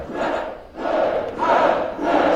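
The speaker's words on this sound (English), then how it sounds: "It's like why are they cheering like this?" Crowd cheering from a video being played, a continuous roaring swell of many voices that dips briefly and surges back, loud and steady with no speech over it.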